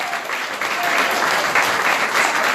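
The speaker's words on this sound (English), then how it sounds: "A big round of applause for the committee in Lahardon." An audience at an entertainment show for visitors from Ohio gives a loud, sustained round of applause for the local committee, a dense, steady wash of clapping heard alone.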